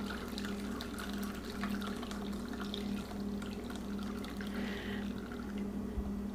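Whey trickles and drips through a strainer during homemade farm cheese (ricotta) making, a steady close liquid patter over a constant low hum with no talking.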